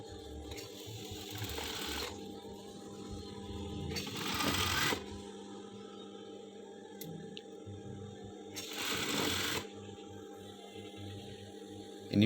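Sewing machine stitching stretchy knit jersey fabric, near and steady, with two bursts of faster, louder whirring run between quieter stretches of slow stitching and handling.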